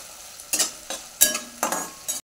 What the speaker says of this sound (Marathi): ह्याच्यामध्ये टाकून घ्यायचा टोमॅटो पण आपण परतून घेऊया।